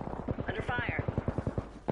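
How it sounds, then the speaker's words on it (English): Enemies in a PS4 shooter fire a steady burst of rapid automatic gunshots that runs under someone talking over it. "They're shooting at me."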